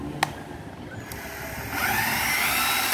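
Japanese cordless drill, switched to reverse, spins up close by after a couple of sharp clicks, its motor whine rising and then holding steady.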